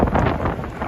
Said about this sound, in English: today's a very windy day